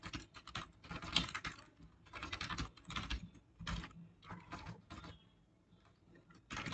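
Fast bursts of typing on a computer keyboard, close and fairly quiet, come in uneven clusters of clicking keys with short pauses, no talking over them.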